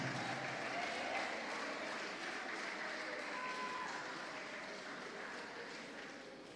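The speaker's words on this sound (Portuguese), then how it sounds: "dê-lhe um aplauso" Church congregation applauding during a bishop's sermon: a sustained, dense wash of clapping from a sizeable crowd that holds steady and fades slightly toward the end.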